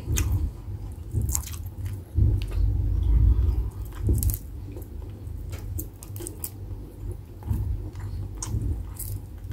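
A seafood lunch is bitten and chewed up close, with wet squishy smacks, slurps and crunches in an uneven rhythm, loud and alone.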